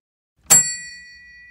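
A single bright microwave oven ding rings out once in a quiet kitchen, then hangs in a clean, slowly fading metallic tone.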